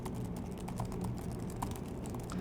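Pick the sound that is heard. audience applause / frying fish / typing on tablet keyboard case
typing on tablet keyboard case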